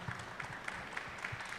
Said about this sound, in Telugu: చప్పట్లు కొట్టాలిగా.